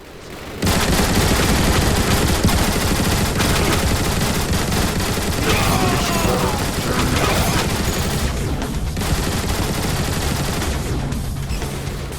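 Sustained heavy gunfire rattles nonstop in a Transformers: War for Cybertron battle, with sniper shots on a bridge mixed into dense automatic bursts and booms, loud and close throughout.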